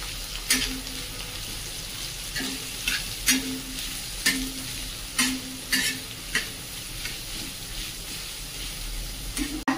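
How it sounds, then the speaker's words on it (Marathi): Onion frying in a pan with a pinch of asafoetida, a continuous close sizzle broken by repeated sharp scrapes and taps of the spatula as it is stirred, with no voices. "कांदा चांगला व्यवस्थित परतून घ्यायचा."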